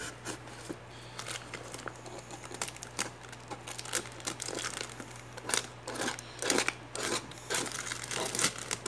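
Samsung Galaxy S10+ box packaging being cut open, with close, dry crinkling and tearing of plastic and cardboard in rapid uneven snips and rustles that grow busier toward the end.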